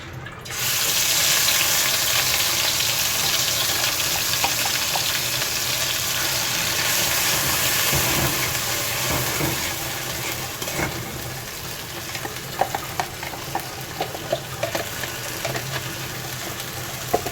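Chapa shutki (dried fish paste) sizzles and fries steadily in oil while being stirred, with scraping clinks of a spatula against the pan standing out over the continuous close hiss.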